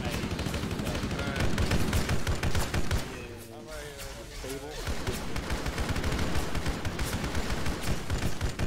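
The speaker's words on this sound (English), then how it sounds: "They're shooting at us through the fucking wall" Arma 3 combat with dense, continuous gunfire: rapid automatic bursts and overlapping shots, loud and close, briefly dipping as a voice speaks before the shooting surges back.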